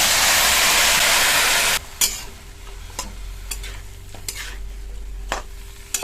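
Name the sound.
washed pumpkin greens added to hot oil, sizzling and stirred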